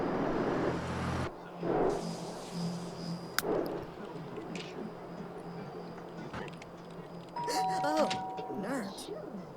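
A doorbell in The Sims 3 rings near the end, a bright two-tone chime over game ambience, after a stretch of background sounds and faint speech.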